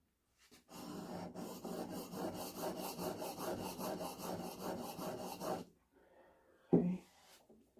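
A chisel's bevel is rubbed back and forth on a fine oiled sharpening stone, producing a steady, rhythmic rasping scrape for several seconds. The scraping then stops and a single brief knock follows.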